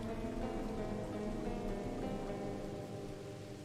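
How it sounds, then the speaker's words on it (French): Steady rain falling outdoors, a dense, even hiss of drops that stays constant and moderately faint throughout, with no voices. "Ah super, il pleut."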